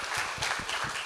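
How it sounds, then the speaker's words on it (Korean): Brief applause from an audience welcoming a lecturer at a real-estate tax seminar, a quick burst of moderate clapping with no talk. "이세웅 세무사님을 큰 박수로 맞아주시기 바랍니다."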